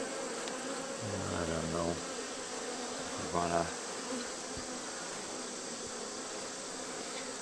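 Honey bees at an opened hive, above the brood chamber, buzz in a steady close drone. Someone speaks briefly over the sound.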